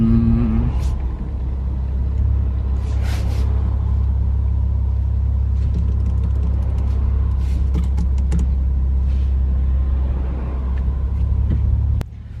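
Modified 550 bhp Toyota Supra engine running under way, a steady deep rumble droning loud and continuous throughout with faint mechanical rattles on top, dropping away at the very end.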